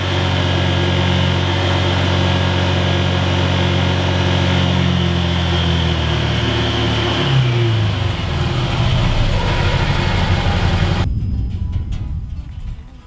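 A Can-Am Defender XT side-by-side runs loud and steady close by, its engine holding a strong drone that shifts pitch as revs change, then cuts off abruptly near the end.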